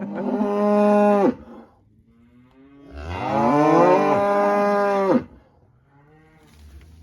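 Cattle on a farm moo loudly on calf weaning day, two long, close bellows followed by a fainter, more distant call.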